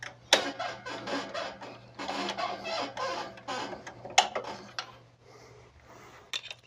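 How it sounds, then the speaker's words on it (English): Plastic retaining clips are pulled from both sides of a Coverbind envPrinter, giving a close series of clicks, snaps and scraping rattles in uneven bursts with short pauses, over a faint hum. "Pull the 2 retaining clips out of the printer on both sides."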